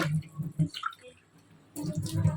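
Water is poured from a glass over toor dal in a vessel in a few short bursts: gurgling splashes, a quiet gap, then a fuller pour.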